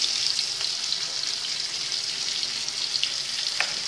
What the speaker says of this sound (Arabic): هنخلص قلية السمك